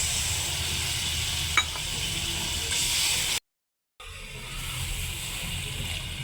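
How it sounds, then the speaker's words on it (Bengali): Rohu fish curry gravy simmering in a pan, a steady close bubbling sizzle and hiss that runs throughout, broken by a brief gap of silence before the simmering returns. "দিয়ে আমি 5 মিনিট ফুটতে দেবো ঝোলটাকে।"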